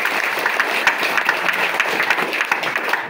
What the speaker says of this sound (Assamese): তেখেতৰ কাৰণে এটা হাত চাপৰি পোৱাৰ তেখেত যোগ্য।